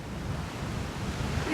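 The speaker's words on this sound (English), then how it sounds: "These are the waves breaking in the entrance of the marina today." Waves breaking at a marina entrance beside a harbour wall, heard as a steady low roar of surf mixed with wind buffeting the microphone, continuous and moderately loud throughout.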